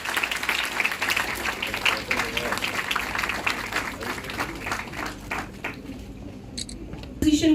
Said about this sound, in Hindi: अरे इतनी कम तालियों से बात नहीं बनेगी, जल्दी से तालियां,